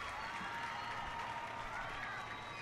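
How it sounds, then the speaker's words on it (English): Spectators at a field hockey match in Rosario applaud as the Argentinian women's team walks out of the tunnel, a steady distant round of clapping and crowd noise with a commentator's voice over it. "A round of applause you can hear is because the Argentinian women have just walked out of the tunnel to have a look at this game."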